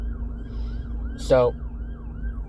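An ambulance or fire truck siren wails in repeated rising and falling sweeps as it passes along a road near a hospital, steady over low traffic rumble, with a brief spoken word and a short louder burst midway.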